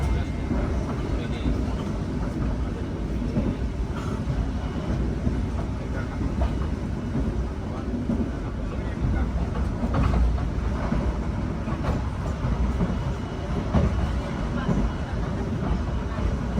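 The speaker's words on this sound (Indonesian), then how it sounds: "Kereta api Pandalungan sudah diberangkatkan kembali dari stasiun Jatinegara" A Pandalungan passenger train heard from on board: a continuous low rumble and rattle of the carriage rolling along, steady and fairly loud, with occasional clicks from the track.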